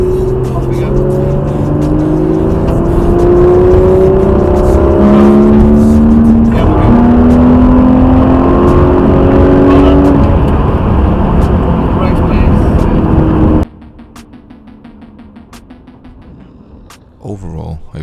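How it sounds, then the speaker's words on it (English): A Porsche 911 GT3 RS engine revs hard while being driven, rising and falling through repeated loud pulls, heard from inside the car before it drops away abruptly near the end. "The sound coming from the Porsche's engine wasn't as good as the Aston Martin,"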